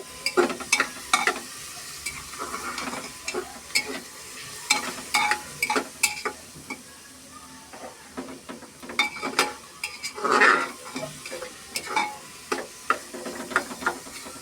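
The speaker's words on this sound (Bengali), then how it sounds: "ভালোভাবে পেঁয়াজটাকে নেড়ে নেবে" Onions fry in oil in a pan for a goat meat bhuna while a spoon stirs them, giving irregular scraping knocks and clinks over a soft, steady sizzle, all close up with no talk.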